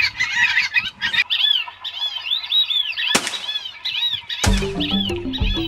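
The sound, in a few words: flock of white-faced whistling ducks calling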